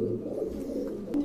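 Imported Pakistani pigeons coo in a loft, a low, dense, steady murmur at close range with no speech.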